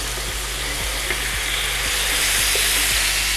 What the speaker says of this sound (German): Und jetzt geben wir erstmal ein bisschen Öl in die heiße Pfanne und dann können wir das Fleisch reingeben.